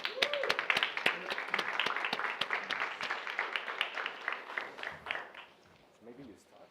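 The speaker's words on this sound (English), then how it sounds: "applause for Hadrian" Applause for a speaker at a lightning talks session: a small audience claps in sharp, fairly close bursts for about five seconds, with voices talking under it and a quieter tail.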